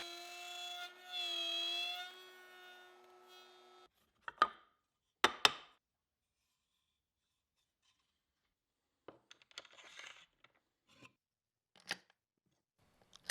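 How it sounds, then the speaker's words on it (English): A router cuts a 1/4-inch slot in a wooden piece with a steady whine for about four seconds, followed by a few sharp knocks and faint scattered clatter in a quiet room. "So I decided to take it over to my router and cut in a 1/4-inch slot"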